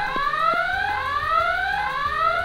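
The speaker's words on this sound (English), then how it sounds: "This is the alarm system, and if you have the alarm system active," The alarm of a Playmobil 5182 police station toy sounds, a loud electronic siren-like tone sweeping up repeatedly in steady cycles, with faint clicks beneath.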